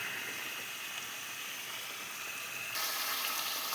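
Food sizzles steadily in a pan while being sautéed and stirred down in a home kitchen, a dense continuous hiss that grows slightly louder near the end, with no voices.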